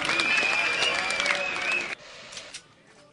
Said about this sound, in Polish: Brawa dla Jakuba Kubena Górczyńskiego za ostatnią rundę na trainie